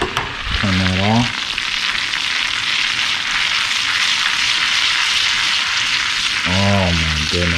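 Hot butter sizzles loudly with jumbo Caribbean lobster on a grill, a dense continuous frying hiss, with brief voiced exclamations at the start and near the end.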